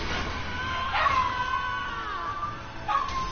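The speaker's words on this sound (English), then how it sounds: "Well, my dogs are freaking out," Dogs indoors howling and yipping, with a rising howl near the start and another brief yelp toward the end, fairly close over a low background hum.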